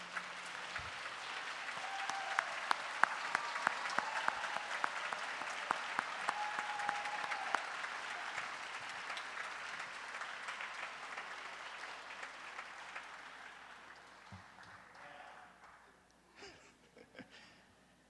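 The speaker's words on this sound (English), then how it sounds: "we can give you all a round of applause" At a Scholastic Art & Writing regional awards ceremony, an audience gives teachers a sustained round of applause, a steady mid-distance clatter of many hands that tapers off gradually into near quiet by the end.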